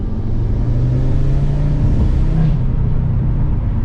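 A 2019 Audi RS3, stage 1 tuned with a Milltek sport exhaust, drones low and loud from inside the cabin under light throttle, a deep steady rumble with a slight rise in pitch as it pulls.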